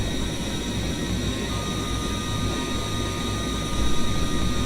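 A-10 jet engine in Combat Mission 8 drones as a steady loud whine and rumble, continuous and close, swelling slightly near the end with no talk.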